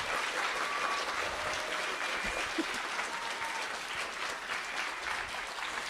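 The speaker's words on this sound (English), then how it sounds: "So please give a big round of applause for Connor and Paula" A large crowd claps continuously and evenly, a dense wash of applause that holds steady throughout without voices on top.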